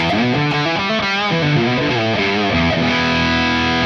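Electric guitar played through a Tonex capture of a Mesa/Boogie amp, giving a loud, distorted, saturated tone as a short riff of sustained chords and shifting notes rings out steadily.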